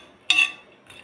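A metal spoon clinks sharply against a pan while makhana fox nuts are stirred and roasted, one bright scrape followed by a fainter tap, close and quiet.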